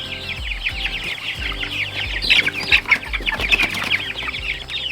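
A rooster and other chickens cluck steadily nearby, with some brief wing flapping and rustling in the middle.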